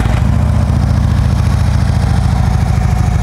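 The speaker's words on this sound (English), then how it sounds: "Let's fire it off and let you listen to it." A used Harley-Davidson Ultra Classic motorcycle with ABS brakes and about 48,000 miles fires up and settles into a steady, loud, close idle with a deep, even throb and no voices.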